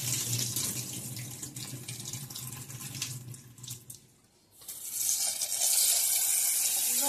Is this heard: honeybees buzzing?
no